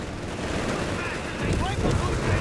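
Howitzer artillery fire in Company of Heroes 3, rumbling booms and gunfire crackle in a busy battle mix, growing heavier toward the end, with a voice talking over it.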